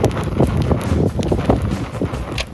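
Loud, steady wind buffeting the microphone, a rough roaring rush with gusty swells throughout.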